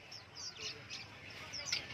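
Que Lam songbirds chirp at a caged bird market, bright repeated tweets and short calls coming and going at moderate distance over a murmur of market background.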